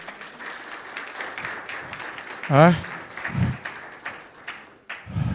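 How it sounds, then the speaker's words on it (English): Audience applause at a church service builds briefly under a preacher's voice, fairly soft and mixed with talk rather than standing alone. "Let's give these guys a round of applause"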